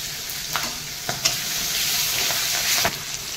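Green chilli and garlic frying in hot oil for a catfish curry, a steady close sizzle with a few sharp stirring scrapes and spatters rising through it, no voices.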